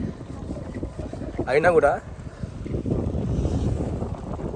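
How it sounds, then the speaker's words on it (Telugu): Cold winter wind outdoors in South Korea rumbles and buffets the microphone in low, continuous gusts, while a person speaks briefly in the foreground. "ఈ చలికి మళ్ళీ గాలి కూడా ఉంది"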